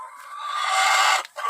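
Backyard chickens making drawn-out, tonal vocalizations near nest boxes built from pots and boards, one sustained call swelling then breaking off before a short resumption, fairly close and alone.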